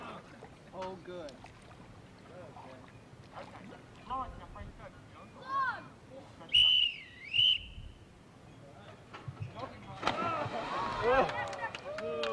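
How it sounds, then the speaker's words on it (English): A whistle blown at a 1991 boys' summer camp event, two short shrill blasts that stand out over a busy background of people talking and cheering. "We now have a whistle."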